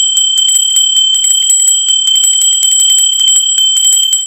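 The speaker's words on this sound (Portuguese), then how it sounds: "Sininho tocou" A bright, rapid electronic notification bell jingles continuously, its tinkling strikes repeating densely and loudly over steady high tones, with no voices.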